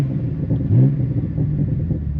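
A BMW M2 G87 idling with its exhaust valves open, giving a deep, steady, close-up rumble with a slight swell in the middle.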